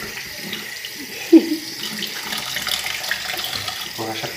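A kitchen tap runs steadily while dishes are washed, a continuous hiss of flowing water with a small clink, close by and with faint background sounds.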